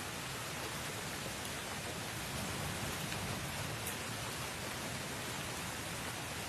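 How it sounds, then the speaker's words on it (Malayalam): Heavy rain pouring steadily, a dense even hiss of drops on surfaces that stays constant throughout, moderately close with no voices. "ഇപ്പൊ പോകണ്ട, നല്ല മഴയാ"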